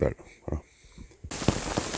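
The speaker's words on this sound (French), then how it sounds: "Donc là la pluie est un peu vénère" Heavy rain during a canoe camping trip on the Loire starts suddenly as a loud, dense hiss after a few spoken words, continuing steadily to the end.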